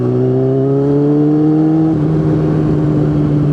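A Yamaha R6 sport motorcycle engine idles close and loud after a crash, with a steady low hum whose pitch drifts up slightly and then dips and roughens briefly, suggesting a faint stutter and hanging idle.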